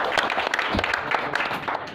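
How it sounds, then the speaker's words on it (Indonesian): An audience applauding during a seminar talk: a brief burst of dense, steady clapping from a crowd, moderately loud and close. "Sepakat lagi tepuk tangan untuk menjenengan semua"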